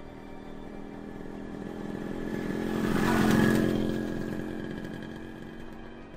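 A manual-clutch motorcycle from the late 1990s rides along a quiet village road at night, its engine drone building steadily to a loud peak midway and then fading as it moves away.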